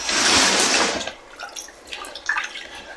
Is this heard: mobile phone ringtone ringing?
no